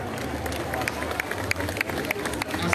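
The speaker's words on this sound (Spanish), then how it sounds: "Aplausos, por favor." A large crowd applauds steadily at a church procession for the Candelaria festival, a dense continuous wash of clapping with babble mixed in throughout.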